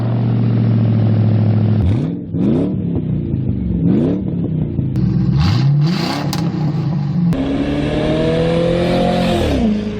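A 1998-2011 Ford Crown Victoria with a muffler-delete exhaust revs repeatedly, each blip rising and falling in a loud, raspy V8 bark close by, with a longer climbing rev near the end and no talk.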